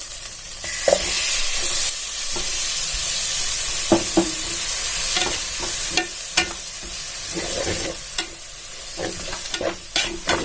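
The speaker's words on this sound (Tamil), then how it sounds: "இப்ப இஞ்சி பூண்டு பொரிஞ்சிச்சான்னு பார்ப்போம். நல்லா பொரிஞ்சிருச்சு." Ginger and garlic fry in oil in a pan for chicken salna, with a steady hissing sizzle broken by repeated spatula scrapes and stirring knocks up close.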